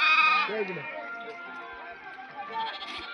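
Small young goats on a farm bleat in a wavering call near the start, followed by softer animal calls and background sounds for the rest.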